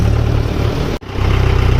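A tractor engine idles loudly and steadily close by, with a brief sharp dropout near the middle before the rumble resumes.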